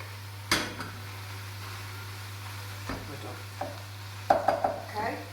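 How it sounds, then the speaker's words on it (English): Chopped mushrooms are stirred in a frying pan, with a steady low sizzle and a hum underneath and a few scattered utensil scrapes and clinks against the pan, louder near the end. "You just give that a stir."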